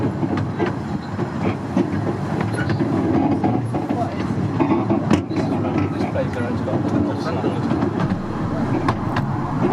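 Ravenglass & Eskdale Railway locomotive number 24 runs along the 3-foot gauge line toward Dalegarth, its steady rumble and rail clatter carrying throughout, with a few sharper clicks and voices faintly underneath.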